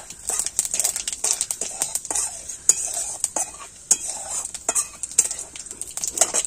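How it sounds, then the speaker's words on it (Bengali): Cumin seeds fry in hot oil with reddening chilli in a pan, a bright constant sizzle broken by quick, irregular scrapes and clinks of a spoon stirring close by. "এবার আমি একটু জিরে দেব,"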